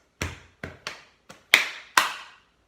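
Body percussion in six hits: two soft taps on the chest, two taps on the shoulders, then two louder, sharper hand claps, each separate and evenly paced, with no talking.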